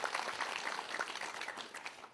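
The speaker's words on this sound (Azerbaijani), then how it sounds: "Kübra Məmmədovanı alqışlayırıq." Audience applause for a contestant at a competition final, a steady spread of clapping at moderate level running through the whole moment with no voices over it.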